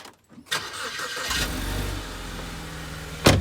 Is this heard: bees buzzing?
no